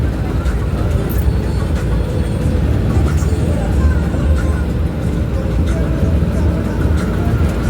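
Interior of a moving bus on the way to a temple, a continuous loud low road and engine rumble with faint rattles, steady for the whole stretch without clear talk.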